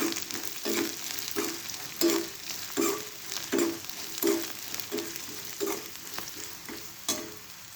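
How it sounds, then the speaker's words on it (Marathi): Half a spoon of red chili powder stirred in a hot pan for a quick potato chutney, rhythmic spoon strokes scraping roughly every half second over a continuous low sizzle. "इथं अर्धा चम्मच मी लाल तिखट टाकले आपण याला हलवून घेऊया"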